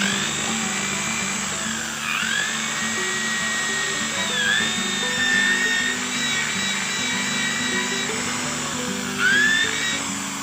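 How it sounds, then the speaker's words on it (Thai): A cordless screw-driving drill runs screws into an old garden hose, its motor whining loudly and close, with the pitch sagging several times as each screw bites and loads. "ที่เราใช้ ใช้สว่านยิงนะครับ"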